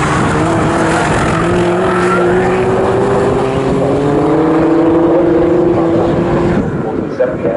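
A pre-2003 touring race car drives past at Snetterton, its engine note rising and holding loud and close for several seconds under continuous commentary before easing away.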